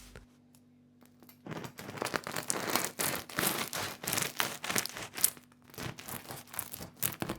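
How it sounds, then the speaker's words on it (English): A knife saws into a crusty sourdough loaf, with repeated crackling, crunching strokes through the crust after a quiet start, fairly close and without talk. "Grab your favorite knife and let's cut into it"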